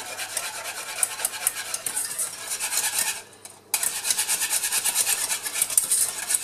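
Lemon tart filling being whisked in a pot as it thickens, a steady rapid scraping and swishing of the whisk up close, with a brief pause midway before the brisk stirring resumes.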